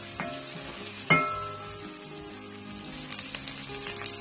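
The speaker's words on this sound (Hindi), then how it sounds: "और उसमें 1 अदद प्याज बारीक स्लाइस में कटी हुई वो डाल रहे हैं। इसको 2 मिनट के लिए सौते करेंगे।" Finely sliced onion sautés in a pan for a mutton masoor dal, giving a soft, continuous frying hiss with one sharp utensil clack early on and faint stirring scrapes toward the end.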